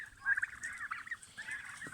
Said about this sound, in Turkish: Ben de burada hindilerimi çıkarttım.